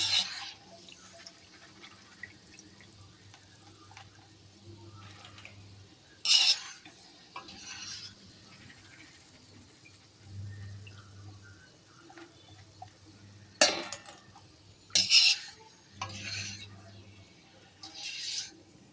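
Okra fry with peanuts being stirred in a pan, soft scraping and clinks of a utensil against the pan in a few separate bursts, with quiet background hum and some talking between.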